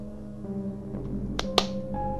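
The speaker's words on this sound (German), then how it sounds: "Ich hab doch nur geklatscht!" A single sharp hand clap in the horror video game The Corridor rings out once against a low droning hum and faint tonal background.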